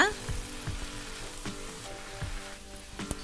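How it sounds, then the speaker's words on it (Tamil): Grated beetroot for halwa cooks in a pan with a soft steady sizzle, broken by a few dull knocks and scrapes of stirring, fairly faint and close, with no talk. "அப்பப்போ பீட்ரூட்டை அடி பிடிக்காமல் நல்லா கலந்து விட்டுக்கலாங்க"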